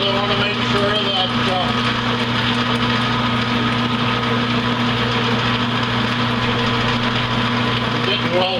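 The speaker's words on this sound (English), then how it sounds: "Just doing some pecking with the drill because I want to make sure that" A drill pecks into a workpiece to center a chuck mount on a machine, a steady whirring drone with bright tonal layers running the whole time, no voices over it.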